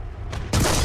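A tank cannon firing in a video game, one sudden loud, broad boom that cuts in over steady engine rumble and lingers to the end.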